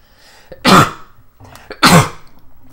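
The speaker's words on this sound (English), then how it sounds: "Oh, I'm gonna sneeze." Two sharp, loud sneeze-like bursts from a person during a Spyro 1 speedrun, about a second apart, each an abrupt explosive blast of breath with no speech over them.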